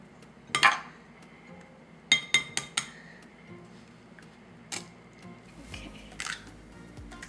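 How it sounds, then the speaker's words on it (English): An egg cracked in a home kitchen while preparing mozzarella sticks, heard as a few sharp, close taps and clicks of shell against a bowl, followed by quieter shell sounds, with no talking over it. "So first we're gonna crack the egg."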